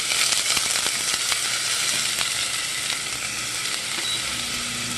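Garlic and onion sizzle steadily in a hot pan, a close, continuous frying hiss with faint stirring clicks and no voices.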